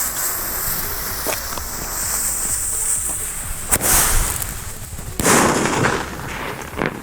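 Powerful air bomb firecrackers go off outdoors: two sharp, loud bangs stand out above several smaller cracks and snaps, heard close with no talking.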